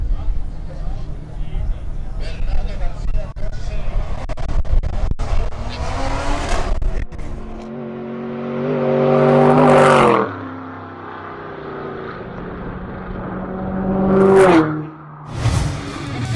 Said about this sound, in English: Bernardo Garcia in his prototype with a Ford engine secures the provisional 5th position